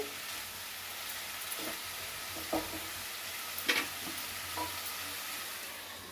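Bottle gourd curry cooks in a pan with a soft steady sizzle, broken by a few scraping stirs of a spoon, close and fairly quiet with no talk.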